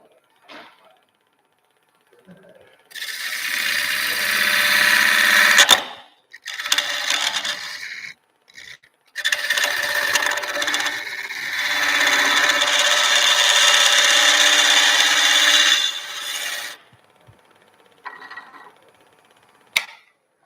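A spindle gouge cutting a wood blank spinning on a lathe at a woodturners' club meeting, a loud, sustained rasping hiss in two long passes with brief pauses between, fairly close, with little talk.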